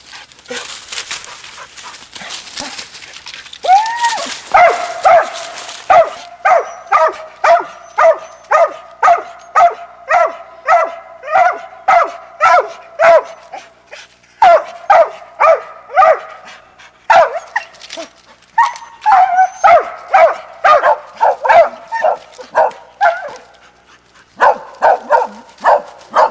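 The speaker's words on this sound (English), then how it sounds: "Speak to him, Goldie." A roughly 10-month-old pup barks in long repeated bursts, loud and close, with rhythmic yips and a few whimpers between the volleys and no talking.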